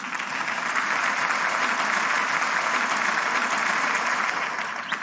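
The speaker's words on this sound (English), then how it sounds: "Let's have a round of applause." Sustained applause rolls on evenly for five seconds during a game-show style segment, a thick, continuous patter of many hands at moderate loudness.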